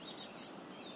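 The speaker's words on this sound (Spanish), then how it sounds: "¿Escucháis? Los pajarillos cantando." Small birds sing near a mountain stream on a chestnut-wooded trail, with bright, high chirps clustered in the first half-second over a soft, steady background wash.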